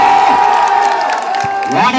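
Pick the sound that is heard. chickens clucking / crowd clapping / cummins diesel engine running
crowd clapping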